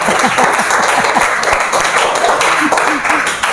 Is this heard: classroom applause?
yes